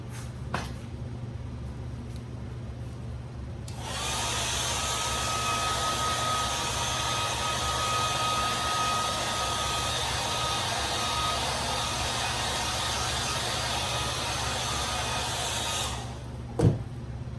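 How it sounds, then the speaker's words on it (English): A hair dryer's steady, loud blowing roar starts after a few seconds and runs evenly for about twelve seconds before cutting off, with a constant fan hum. "we'll dry with the hairdryer"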